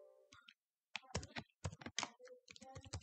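Light keystrokes patter on a computer keyboard in short uneven bursts with brief pauses, close and quiet, heard alone without talk.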